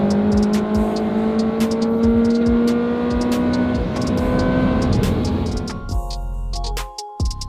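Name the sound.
Ferrari V8 car engine while driving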